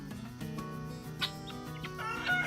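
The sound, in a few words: young rooster clucking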